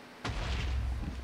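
A sudden deep boom of TNT exploding in Minecraft, loud and close, with a low rumbling tail that rolls on without dying away.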